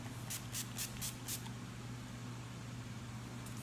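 NYX Matte Finish setting spray, nearly empty, is misted onto a face in about five quick, close puffs, then a faint steady hum carries on alone.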